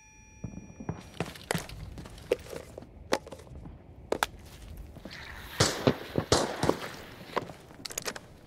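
Sharp, scattered blasts and crackling pops from a teammate's grenade in the Arena Breakout Infinite shooter, moderately distant, with a burst of clustered bangs partway through amid footsteps.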